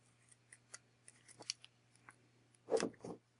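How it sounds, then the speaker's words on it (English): Wire is cut from its spool while making a watercolor paper bracelet: a few soft clicks and handling noises, then two closer, louder snips. "Cut it from its spool."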